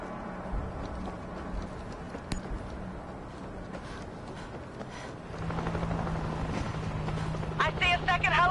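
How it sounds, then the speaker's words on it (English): Helicopter in the video game World War Z, a continuous whirring rotor drone that grows louder and fuller midway, heard under talk with gameplay clatter. "I see a second helicopter."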